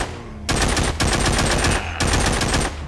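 A shotgun fires in The Walking Zombie 2, loud, close blasts in a rapid burst of three bursts separated by short gaps, each with a sharp crack and heavy low end, with no talking over it.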